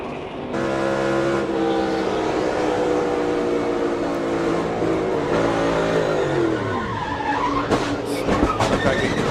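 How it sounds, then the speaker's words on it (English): NASCAR Cup Series stock cars spin out, loud engines roaring with harmonic whine that drops and swerves, tires screeching near the end amid sharp scraping bursts, no voices over it. "They had just spun out."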